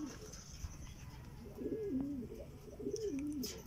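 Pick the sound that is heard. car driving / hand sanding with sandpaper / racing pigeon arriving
racing pigeon arriving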